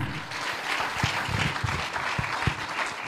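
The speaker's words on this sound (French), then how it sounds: "Applaud for yourself." Audience applause at a French-English church or prophetic healing gathering, a steady wash of clapping over several seconds with a few sharper individual claps standing out.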